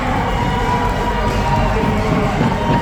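Spectators cheering at a U12 AA youth ice hockey tournament final between Jokerit and Pips in an arena in Oulu: a steady, loud roar of crowd noise and shouting throughout, with an announcer talking over it.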